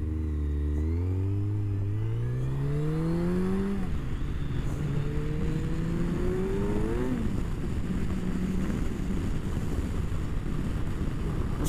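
Kawasaki Ninja 1000 motorcycle engine pulling hard through rising revs, one gear change then another climb, close to the rider with heavy wind rush covering the tail end.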